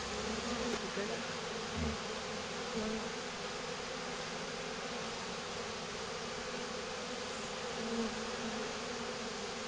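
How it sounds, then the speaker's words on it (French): A honeybee swarm being caught into a divisible Layens hive hums in a dense, continuous buzz that stays loud and steady throughout, with a brief knock partway through. "c'est le premier essaim attrapé de l'année"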